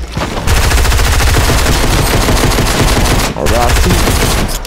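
Rapid automatic gunfire in a Fortnite squads match, loud dense bursts that run almost without break, with one short pause before the shooting resumes.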